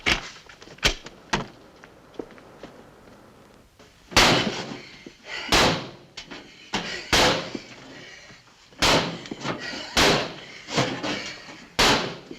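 Hammering and knocking from a neighbouring bike shop: irregular heavy thuds and bangs, some single and some in quick pairs, loud and close with quiet gaps between, no talking.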